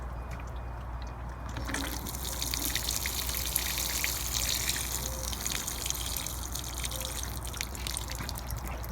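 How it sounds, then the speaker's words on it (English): Water poured from a bucket onto a plant outdoors, a steady trickling splash that runs continuously at moderate loudness with faint background noise. "I just went ahead and got the old water bucket here, and I'm going to just put some in here"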